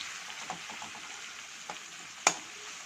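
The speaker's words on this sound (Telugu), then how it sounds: "ఇంకా కొంచెం వేగాలి, కొంచెం పచ్చిగానే ఉంది." Potato curry filling for aloo bonda frying in a pan: a steady, moderate sizzle with faint stirring sounds and one sharp clink near the end, with no talk.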